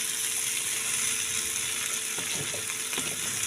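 Spices sautéing in a little oil for potato and pea dum, a steady hiss of sizzling with a few soft stirring scrapes near the end, no talking.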